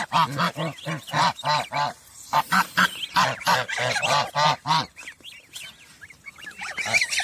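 Geese with their goslings, near and loud, honk in quick repeated bursts of nasal calls, one after another, then trail off into softer, scattered peeping and honks.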